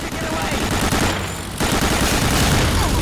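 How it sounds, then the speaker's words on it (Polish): Gunfire from the video game Medal of Honor Allied Assault rattles in dense bursts through a desert road battle scene. It sounds like continuous automatic fire with a short lull, under a gamer's voice. "strzały w ogóle jakieś lecą."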